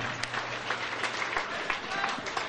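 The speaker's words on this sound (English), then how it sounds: "big round of applause for both fighters for their opening bout" Audience applause at a kickboxing event in Victoria after an opening bout, a steady wash of clapping with crowd noise lasting throughout, fairly close.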